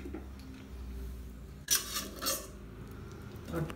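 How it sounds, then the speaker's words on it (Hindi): Steamed bottle gourd muthiya are moved onto a plate in a home kitchen, giving a couple of short scraping metal clinks of utensil against plate amid quiet background hum, with no talk. "ठंडा करने के लिए हम लोग इसको प्लेट में डालेंगे"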